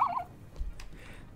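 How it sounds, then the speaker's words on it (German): Birds calling in the background of the Cities: Skylines city-building game, a short gobbling, turkey-like call at the start, then quieter bird sounds over a low ambient hum. "Vögelchen im Hintergrund"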